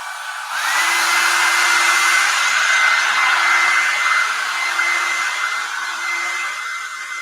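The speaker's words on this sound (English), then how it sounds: "If you have a hair dryer, you can go ahead and dry this right now" Hair dryer drying paint on a painting, switching on abruptly and then running loud and steady with a constant whine over a broad airy rush, alone.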